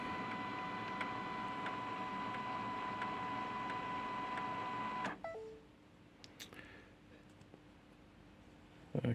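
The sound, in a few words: HP LaserJet MFP M283fdw printer lifting the paper tray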